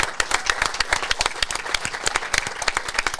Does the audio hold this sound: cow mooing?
no